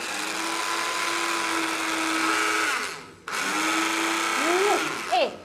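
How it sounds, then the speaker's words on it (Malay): A small blender whirs with a steady high-pitched motor hum, briefly cuts out, then restarts and runs on with slight pitch wobbles. "kita punya personal blender. Ni, kita dengar bunyi lah kita dengar bunyi"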